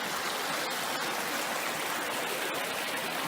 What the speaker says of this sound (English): Nice little bubbling brook.